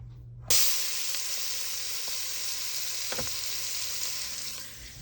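Ingredients are dumped into a hot pot and burst into loud sizzling after a short quiet start, then settle into a steady frying hiss with a couple of faint clinks of a utensil, no voices.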